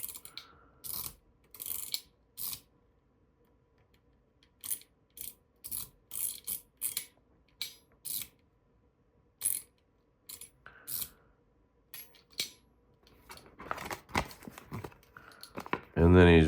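The wheel of a fidget toy is rolled, producing quick bursts of ratcheting clicks that come close and crisp, with short pauses between runs and a denser flurry at the end.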